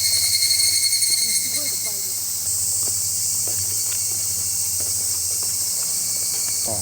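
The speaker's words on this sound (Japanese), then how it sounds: "今ねマイクを環境音に変えたんで虫の声が聞こえるかな。" Summer insects near Matsushima in Miyagi, Japan, with higurashi cicadas and bell crickets keeping up a loud, steady high chorus, a low hum and scattered faint rustles beneath it.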